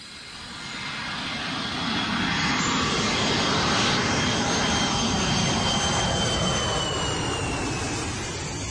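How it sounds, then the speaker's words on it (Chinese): A low-flying airplane landing over Hong Kong rooftops roars in from faint to loud within a couple of seconds, then holds as a sustained jet-engine rumble with a thin whine before slowly fading. "头先飞机降落的时候，近到可以跟天台的人握手那么挤"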